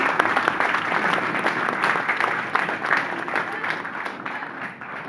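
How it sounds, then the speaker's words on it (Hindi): An audience gives sustained, dense applause to welcome a guest named Sujeet at a Hindi-language seminar hall event. The clapping is loud and even, then slowly thins out toward the end. "एक बार शानदार ताली से सुजीत सर का स्वागत करेंगे"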